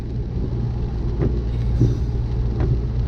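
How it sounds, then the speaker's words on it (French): A deep, steady engine rumble from a BMW 318d E90 with M47 diesel engine and full straight-through exhaust, loud and continuous, with a few brief swells in the low drone and no talking. "le meilleur bruit de diesel que j'ai entendu de ma vie"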